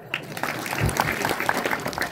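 An audience at a comic kirtan performance applauds the sound crew, steady dense clapping running the whole time at a fairly loud, even level.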